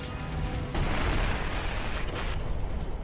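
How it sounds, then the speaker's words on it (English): A massive explosion tears through the aircraft carrier Forrestal during a deck fire, a sudden loud, broadband blast that swells into a sustained roaring rumble lasting several seconds. "A massive explosion rocks Forrestal."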